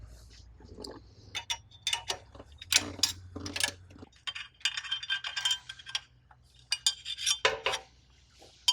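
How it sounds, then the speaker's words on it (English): Removal of the oil guard cover from an HXL series pump gives close metallic clinks, taps and small scraping knocks in an irregular run of sharp bursts, with quiet gaps between them and no talking. "First step we're going to take is to remove the oil guard cover"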